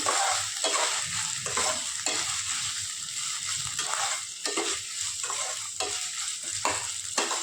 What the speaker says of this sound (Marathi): आणि व्यवस्थित आलं लसणाची पेस्ट फ्राय करून घ्यायची.